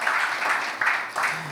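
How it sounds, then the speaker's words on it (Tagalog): Church congregation clapping in praise during a worship service: brief, loud bursts of applause in a quick rhythm, mixed with a voice. "Can we give the Lord a clap offering of praise?"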